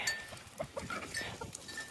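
A sick goat kept by an old fence on a farm gives a short, close bleat amid faint clinks and outdoor background, with no talk.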